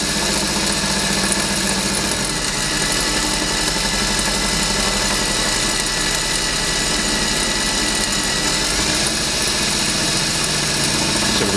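A drill bit bores through a metal plate, giving a steady, loud mechanical drone and vibration that run without a break from start to finish, with no talking.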